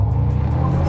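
A McLaren GT launching from launch control roars loud and close, a dense, steady engine drone under full throttle with no pause.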